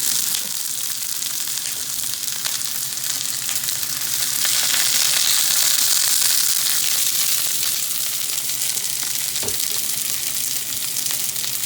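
Zucchini frying in a pan, a steady, fairly loud sizzle that swells midway and goes on unbroken, with a faint clink near the end and no talk.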